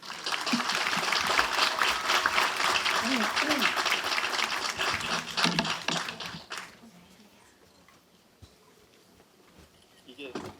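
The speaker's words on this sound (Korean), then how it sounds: "큰 박수로 모시겠습니다" Audience applause at an agricultural showcase welcoming a young farmer presenter, brisk clapping for about six seconds that drops off abruptly into quiet room tone, with faint footsteps or taps and a rise at the end.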